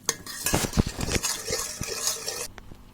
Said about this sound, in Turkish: bir paçka vanilya ilave ettikten sonra tam şekilde karıştırırım